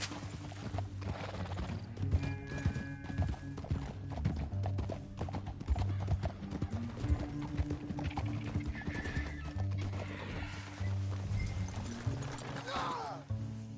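Horse hooves clip-clopping steadily while riding in Red Dead Redemption 2, the rhythmic trot running throughout alongside occasional neighs and whinnies, mixed with game music and some voices talking.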